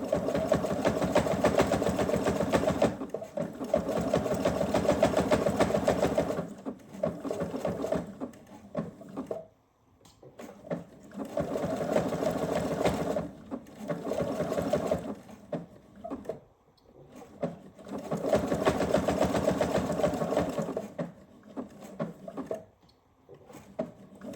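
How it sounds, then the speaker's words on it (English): A sewing machine stitches a fabric jelly roll gift basket in steady running bursts of several seconds each, separated by short pauses. It sounds close and clear, with no talking. "So I'm going to stop sewing there."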